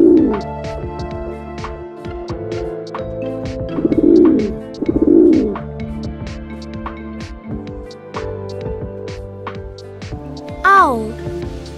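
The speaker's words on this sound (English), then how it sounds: "Pigeon." Soft, repeated pigeon coos, two rounded bursts close together in the first half and another near the end, heard over a steady bed of cheerful children's music.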